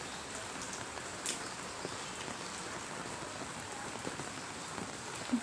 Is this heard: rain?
yes